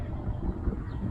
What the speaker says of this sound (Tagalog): So yan, medyo mahangin tayo dito ngayon.